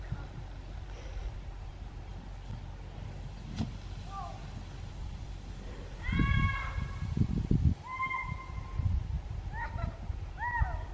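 A cat meows several times on a snowy day, rising and falling calls spaced apart in the second half, heard over a steady low rumble like a running vehicle, with occasional faint voices.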